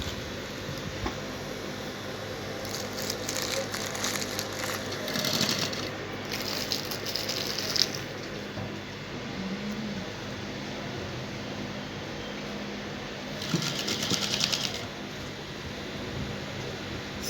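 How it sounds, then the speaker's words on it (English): Domestic sewing machine running in short bursts as it stitches a fabric lining close to a zip, the inseam-finishing work sounding soft and fairly near over a steady background hiss. "I'm going to sew very close to the zip. That's how I'm going to sew on the lining."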